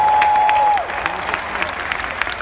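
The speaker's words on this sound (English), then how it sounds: "Let's clap for that," Audience applause at an annual conference hosting Magic Johnson, a brief steady tone fading out at the start, then dense ongoing clapping filling the hall at moderate loudness.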